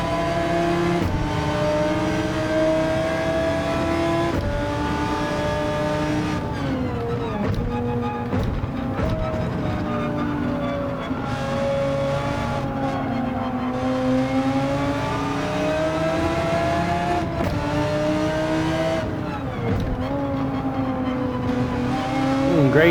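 A GT3 race car in Gran Turismo 7 roars continuously at high RPM, engine pitch climbing and dropping through gear shifts and corners, loud and close throughout with no talk.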